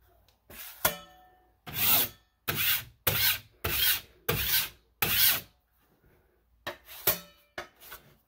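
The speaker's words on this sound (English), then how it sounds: "I'm gonna go ahead and give this one last little coating" Spackling compound spread over a drywall patch with a putty knife, heard as a series of about eight distinct close scraping strokes, each a second or less, separated by short quiet gaps.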